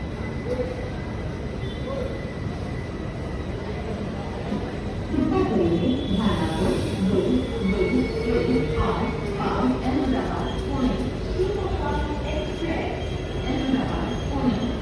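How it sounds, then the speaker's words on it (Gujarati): A train arriving at a station platform rumbles continuously nearby with rattling wheels and faint squeals, a crowd's chatter and voices mixed in throughout. "આપણી ટ્રેન આવી છે"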